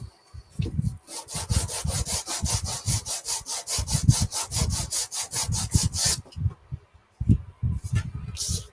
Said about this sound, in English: This is just 120 grit sandpaper. I'm rubbing it on